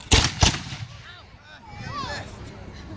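Reenactors in redcoat uniform fire a musket volley, two sharp loud cracks in quick succession that boom and fade, followed by voices talking.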